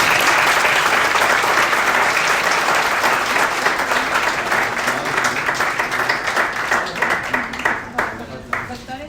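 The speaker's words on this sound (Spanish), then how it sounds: "Aplausos." An audience at a medical ceremony breaks into dense applause that stays full and loud, then thins into scattered individual claps near the end, with voices faintly mixed in.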